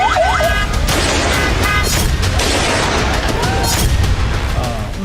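Gunfire and blasts during protests in Pakistan-occupied Kashmir, dense loud shots and booms crackling continuously and close by, with voices shouting underneath.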